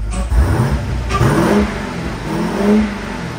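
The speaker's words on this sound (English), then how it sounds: "I'm going to try and rev it enough you can hear it really well." A 2018 Jeep Grand Cherokee Trackhawk SUV engine revs up loudly and close by, rising in pitch, then settles and revs again in a couple of throaty surges.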